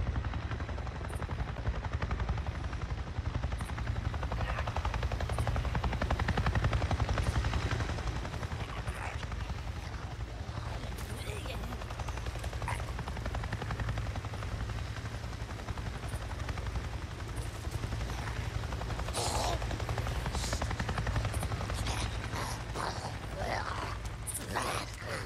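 A helicopter in the Days Gone video game thrums as a continuous low rotor drone, with scattered sharp sounds over it and no clear speech.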